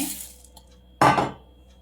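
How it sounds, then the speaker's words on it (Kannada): Dry puffed rice (mandakki) poured into a bowl for churmuri street food, a single short rustling, clinking burst about a second in, close and fairly loud against a quiet kitchen background. "ನಂತರ ಮಂಡಕ್ಕಿಯನ್ನು ಹಾಕಿ"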